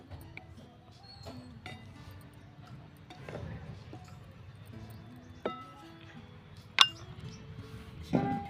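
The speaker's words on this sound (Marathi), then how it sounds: "थोडीशी आपण चुरगाळून कस्तुरी मेथी टाकूया आणि पुन्हा एकदा ढवळून घेऊया" Utensil stirring a fresh turmeric vegetable dish in a pan over low heat, heard as soft scattered clinks and scrapes against the metal, fairly quiet and close, with a voice talking over it.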